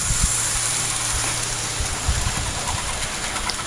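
An Athearn GP40-2 model train locomotive runs around a bend on its track, a steady, fairly loud mechanical hum and rumble with a few small clicks, lasting throughout without speech.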